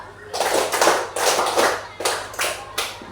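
A group claps in short rhythmic bursts, patterns of counted claps separated by brief pauses, close and fairly loud.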